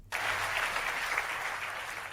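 A late-night TV studio audience breaks into applause, sudden loud clapping that starts sharply and holds as a dense, even wash before easing slightly at the end, with no talking over it.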